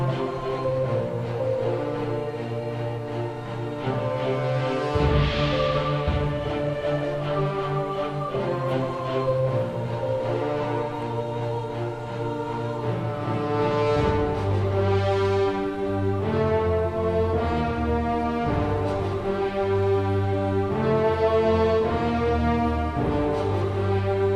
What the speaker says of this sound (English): You can probably hear that little nod to the original NES music in the background here